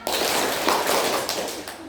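Rhythmic hand clapping in a classroom counting game, a group clapping along in bursts of claps, steady and fairly loud, with voices mixed in.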